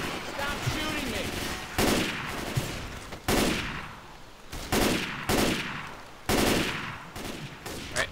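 Gunfire in Left 4 Dead 2, loud sharp shots and short automatic bursts repeating every second or so over constant game noise.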